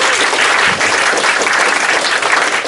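Audience applause at a local city council gathering, a loud, dense and continuous burst of clapping from a crowd, with no voices over it.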